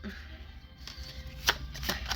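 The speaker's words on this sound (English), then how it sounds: "I'm having a little trouble shuffling because I have this thing around my neck." A tarot deck, the Forest of Enchantment deck, is shuffled quietly up close, with soft riffling flutters and a couple of sharper card snaps.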